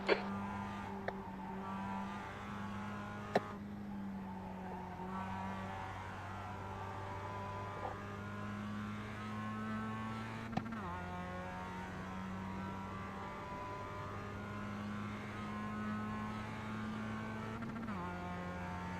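A Mazda MX-5 Cup race car in iRacing holds a loud, steady engine drone from inside, with short dips in pitch as gears change and a few sharp clicks over the hum.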